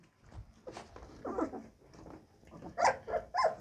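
Malinois puppies bark, yelp and growl close by in short, irregular bursts that grow louder and more frequent toward the end, with little talk.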